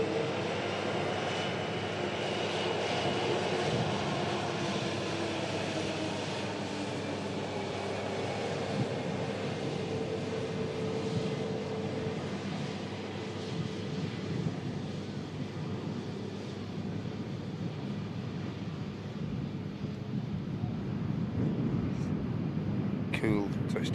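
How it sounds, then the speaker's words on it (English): An EasyJet airliner touches down on the runway, a sustained engine roar with shifting tones that fades slightly then lifts near the end as a voice talks over it. "Cool touchdown. Cool as you like from the EasyJet there."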